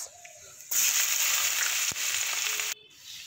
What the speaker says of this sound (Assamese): এতিয়া একেখিনি তেলতে মই দি দিছোঁ শুকান জলকীয়া পাঁচফোৰণ পিঁয়াজ